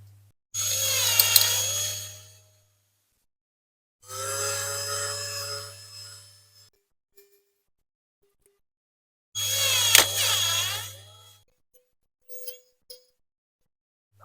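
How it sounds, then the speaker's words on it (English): A drill whines in three separate bursts of a couple of seconds each, drilling out rivets on a diecast Rolls-Royce Silver Cloud model, with quiet pauses between, close and fairly loud. "Put a slightly bigger drill on just for a couple of turns."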